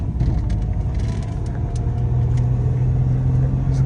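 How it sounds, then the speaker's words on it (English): A high-mileage vehicle with 285,000 miles and a newly installed transfer case drives steadily down a road, its engine rumble loud and continuous with smooth gear changes blending into the drone. "Going down the road pretty smooth, shifting fine."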